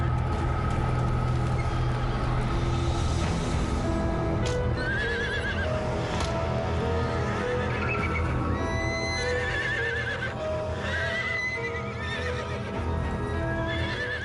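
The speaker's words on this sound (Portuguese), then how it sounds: "a égua premiada está muito assustada" A frightened prize mare and other agitated horses in the early hours give loud, repeated neighs and whinnies over a constant background, with occasional hoof clip-clops and stamping nearby.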